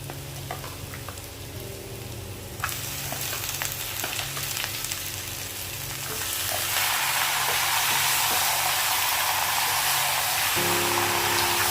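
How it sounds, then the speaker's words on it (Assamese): Chicken pieces go into a pan of fried onions for an Assamese-style curry, giving a steady close sizzle that swells louder and brighter partway through, with no talking. "পিয়াজখিনি ভজা হৈছে ইয়াত মই এতিয়া দি দিম মাংসখিনি"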